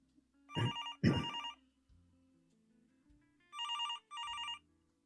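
A telephone rings in two double bursts separated by a pause, the electronic trill fairly faint and a little distant.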